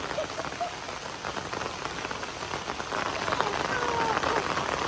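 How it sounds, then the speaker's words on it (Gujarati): Steady rain patters and hisses, with dense drops striking surfaces nearby, the downpour gradually intensifying. "અત્યારે ખરેખર એકદમ મસ્ત વરસાદ આવે છે"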